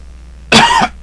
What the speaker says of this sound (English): I need to stop that coughing shit.